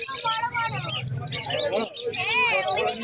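Conure parrots and other caged birds call at an outdoor Sunday bird market, their chirps and whistles overlapping with people talking nearby.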